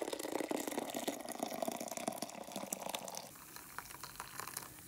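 Tea pouring into a cup with collagen powder added, a steady liquid splash and trickle up close that stops abruptly partway through, leaving quieter room tone.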